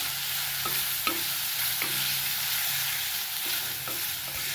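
Onion and a few curry leaves fry in a pan for aloo mutter bhaji; a gentle, even sizzle runs throughout with soft, spaced spatula knocks and scrapes.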